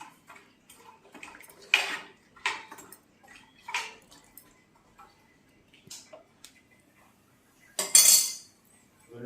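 A metal spoon clinks and scrapes against a cooking pot while spinach avial is stirred with turmeric and salt, giving scattered sharp taps with quiet pauses between them.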